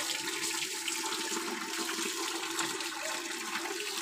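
Steady water pouring and splashing during a bath, a continuous even rush that stays moderately quiet for the whole stretch, with no voices.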